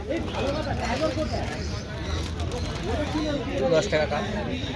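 Pigeons coo at the Ankurhati pet market in Howrah, their soft calls close by but half-buried under nearby conversation and the general chatter of the market crowd.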